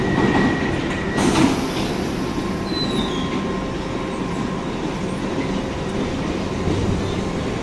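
A London Underground Piccadilly line train runs toward Uxbridge with a loud, continuous rumble throughout, and brief wheel squeals and screeches rise above it.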